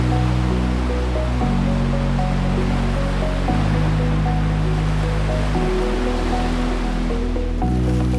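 Giant winter waves up to 30 feet high break on Hawaii's North Shore, a steady, loud roar of surf that runs unbroken throughout with a music bed playing underneath.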